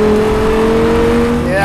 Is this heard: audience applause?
no